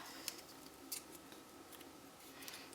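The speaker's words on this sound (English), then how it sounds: "take some scissors and cut it into a triangle" Scissors snip through a piece of card to shape a triangle, a few faint, quiet cuts spaced apart against near silence.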